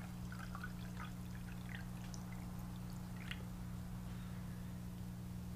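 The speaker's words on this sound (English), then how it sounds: "Let's get some cold water in here." Faint trickling and splashing of cold water being poured into a mug, heard close in a garage over a steady low electrical hum.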